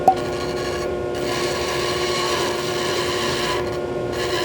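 A saw blade used like a disc or edge sander grinds a wooden chair part, a continuous close abrasive rasping that holds steady for several seconds with a brief dip in the middle.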